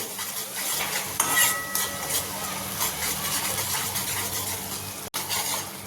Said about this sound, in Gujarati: ટામેટાની પ્યોરી લઈ અને આપણે બરાબર હલાવી લેવાનું છે